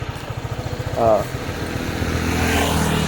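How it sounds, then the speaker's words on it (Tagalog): A Honda ADV motor scooter engine idles close by with a rapid, even putter, then settles into a smoother, steadier drone. A voice is briefly heard. "So gamit natin yung motor ni Kuya Jox or ni Idol Jox"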